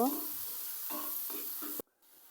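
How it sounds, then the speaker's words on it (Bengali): Onions fry in a pan after eggs on a home stove, giving a soft steady sizzle with faint intermittent stirring taps before it cuts off abruptly near the end. "এখন সুন্দরভাবে পেঁয়াজগুলো ভেজে নেব"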